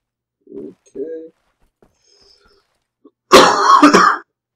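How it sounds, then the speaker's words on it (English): A couple of short, muffled coughs, then a louder, harsher burst of coughing and throat clearing up close, with silence in between. "I'm sorry I'm coughing so much."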